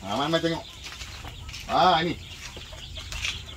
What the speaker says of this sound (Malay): Ini anak-anak ayam lohman brown ni. Baru sampai tadi.